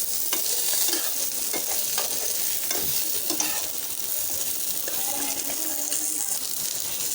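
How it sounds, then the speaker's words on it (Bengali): Pre-fried chicken being stirred into spice masala in a hot pan, a continuous close sizzle with spoon scrapes and light clinks against the pan, no voices. "ভেজে রাখা চিকেনটাও দিয়ে দিয়েছি।"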